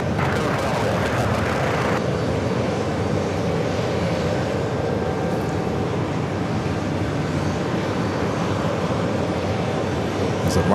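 A Delta Airlines Airbus A330 jet at JFK gives a steady, broad engine roar that holds loud and unbroken across the whole stretch, with a brighter hiss fading after the first couple of seconds.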